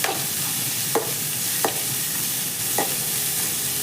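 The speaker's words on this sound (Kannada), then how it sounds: "ಸೊ ಹಾಗಾಗಿ ಫಸ್ಟು ಕ್ಯಾರೆಟು ಮತ್ತು ಬೀನ್ಸ್ನ ಸ್ವಲ್ಪ ಫ್ರೈ ಮಾಡ್ಕೋಬೇಕು" Carrots and beans frying in a little oil in a pan, a steady broadband sizzle throughout with three or four sharp stirring scrapes spaced about a second apart; no talking.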